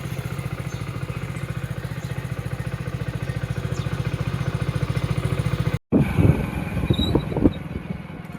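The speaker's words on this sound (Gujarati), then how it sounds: "આ રહ્યું આપણું બાઇક, ચાલુ જ છે." A motorcycle engine idles steadily with a regular throbbing beat close by, then cuts out briefly before picking up again with rougher, louder revs and clatter, with no talk over it.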